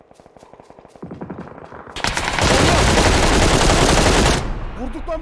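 Rapid bursts of gunfire in a video game squad shootout, heavy automatic fire swelling into a loud, sustained volley that fills the middle seconds before easing off, with players shouting over it.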